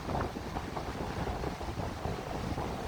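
Strong wind buffets the microphone at Wasaga Beach in rough, uneven gusts, a low rumbling roar that rises and falls with no talking.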